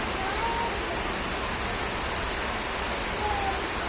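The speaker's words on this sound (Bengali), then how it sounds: "এখানে খুব বৃষ্টি হচ্ছে।" Heavy rain pouring outside a house within view of misty hills, a dense steady hiss of falling water with no break, loud and continuous throughout.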